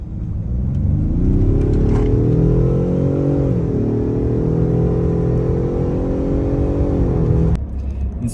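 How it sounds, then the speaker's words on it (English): A Ford F-150 PowerBoost hybrid pickup accelerates hard, giving a loud close-up whirring drone that climbs in pitch, dips briefly at a shift, then climbs again before easing off, with no V8 growl. "When you plant the throttle, you expect to hear a big growly V8, and what you get is a sound that's closer to an angry vacuum cleaner."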